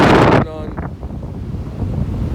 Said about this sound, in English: it's still windy as shit